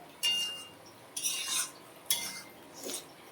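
Paneer is stirred into palak in a pan: three separate scraping, clinking strokes of a spoon against metal, close and soft, with quiet gaps between.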